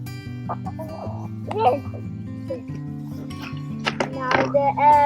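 Chickens clucking and squawking as they are herded into a coop, with a dog-like bark or two mixed in, busy overlapping calls building louder toward the end over a steady low hum and some talk.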